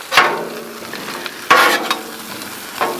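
Mushrooms frying in oil on a Blackstone griddle, a constant close sizzle broken by three sharp scrapes of a spatula tossing them, with no talk over it.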